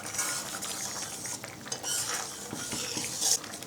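A spoon stirs a red lentil dish with green chillies and salt in a pan, giving quiet, close scraping and clinking against the metal in an irregular rhythm.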